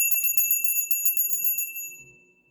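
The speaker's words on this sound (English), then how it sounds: "Let's ring a bell" A single bell is struck once, ringing out clear and bright with a long shimmering decay that fades over a couple of seconds, alone with no talk.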